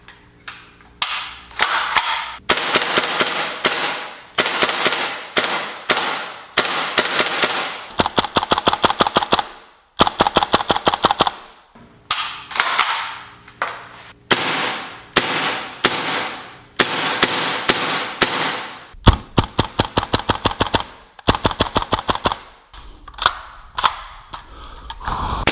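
A GHK AKM gas blowback airsoft rifle fires BBs in rapid strings of sharp, loud snapping cracks, bursts broken by brief pauses and single shots, close and with no voices.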